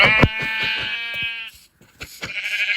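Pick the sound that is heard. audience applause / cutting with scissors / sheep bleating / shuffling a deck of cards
sheep bleating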